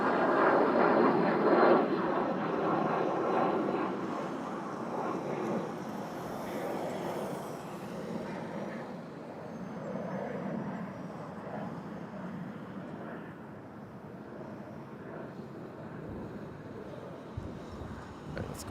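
Airbus A220 from Winnipeg arriving on runway 05 at Toronto Pearson, a loud broad jet roar at first that slowly fades and recedes over many seconds.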